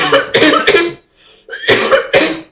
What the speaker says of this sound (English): I have to cut all of that coughing.